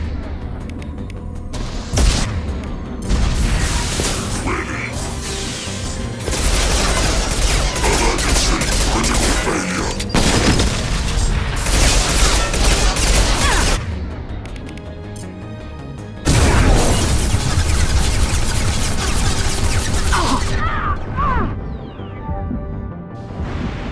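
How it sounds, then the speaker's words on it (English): Heavy gunfire and explosions rage through a Mass Effect firefight, a dense, loud barrage of rapid shots and booming blasts that continues almost without pause, with brief dips before surging again. "Taking heavy fire! Back off!"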